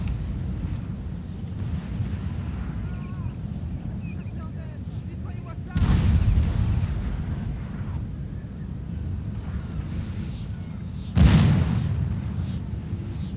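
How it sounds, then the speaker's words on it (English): Artillery fire in the Napoleon Total War battle game: two heavy booms, a few seconds apart, stand out over a low rumbling wind-like battlefield bed. "Getting some solid artillery fire on the Ottomans"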